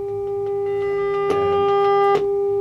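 Steady sine test tone fed through a 1979 Marshall JMP 2203 MKII amplifier, holding one pitch with growing harmonics and two sharp clicks as the level ramps up, clear and continuous with no talking.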